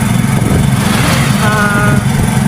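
A motorcycle engine drones steadily while riding along a road through rice fields, a loud, continuous buzzing rumble close to the mic with wind noise over it.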